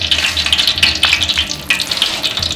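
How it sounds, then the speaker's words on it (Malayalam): Sunflower oil mixed with Dalda sizzles and crackles in a hot copper pot while a Kerala chicken roast is prepared, with loud, continuous frying and stirring clatter. "ചെമ്പ് ചൂടായിട്ടുണ്ട്, നമുക്ക് എണ്ണ ഒഴിച്ചു കൊടുക്കാം."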